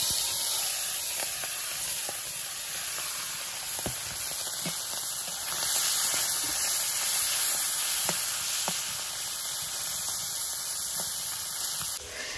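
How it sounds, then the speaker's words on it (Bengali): Small puti fish fry in a hot wok (kadai), giving a loud, steady, close sizzle with a bright hiss and occasional faint pops and stirring clicks throughout. "কড়াইটা গরম হয়ে গেছে, এখন আমরা মাছগুলো দিয়ে দেবো।"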